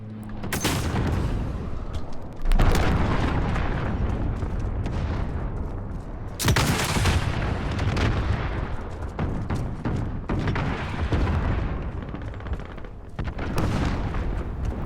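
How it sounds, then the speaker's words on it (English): Cruise missile strikes in Call of Duty: Modern Warfare, a run of loud, heavy explosions rumbling one after another across the whole stretch, with big blasts near the start and middle and continuous booming debris in between. "Allied cruise missile"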